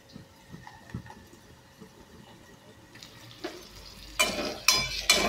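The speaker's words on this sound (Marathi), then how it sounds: "टोमॅटो मऊ पडेपर्यंत परतायचा आहे." Onion and tomato sauté in a pan, a faint scrape and soft sizzle at first, then louder stirring clatter and bursts of sizzling near the end.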